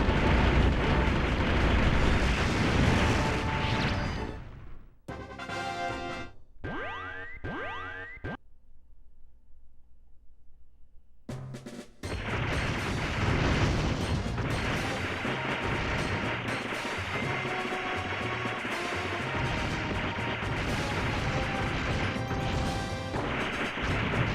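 Special-attack bomb blasts in a PS2 shoot-'em-up game: loud, dense crashing explosions fill the soundscape with electronic effects, briefly dropping into a quieter, tonal stretch before the booming barrage resumes.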